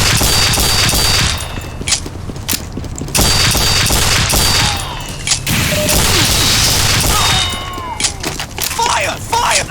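Candy cannons in a video game fire in loud, dense, continuous volleys of booming blasts and crashes, with brief gaps between the bursts, while a voice shouts over them.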